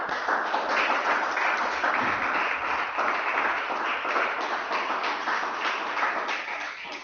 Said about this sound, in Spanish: Damos un aplauso al Espíritu de Dios en esta mañana.